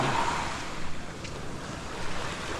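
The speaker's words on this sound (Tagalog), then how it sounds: "Kasi napakakalma ng dagat oh." Calm sea washing onto a beach, a continuous soft hiss of surf mixed with gusty wind buffeting the microphone, with no speech.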